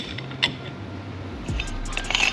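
Metal coilover mount hardware on a budget coilover install being tightened by hand, a few short creaks and ratcheting clicks close up, fairly quiet with a low hum underneath.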